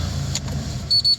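A Renault Clio with an immobilizer fault has its engine catch briefly: a low, close idle rumble, then two short high electronic chimes at the end.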